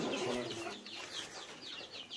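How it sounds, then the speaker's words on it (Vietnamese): Chickens kept shut inside a house cluck softly and continuously, with sparse bird calls and rustling as a low, close-up background with no talk. "Gà đấy, gà nhốt trong nhà đấy,"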